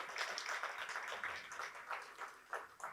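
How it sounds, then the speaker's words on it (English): Audience clapping during a motivational talk, a faint, distant wash of many hands heard at low level throughout. "yeah, you can clap it, that's cool too"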